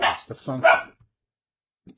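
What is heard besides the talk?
dog barking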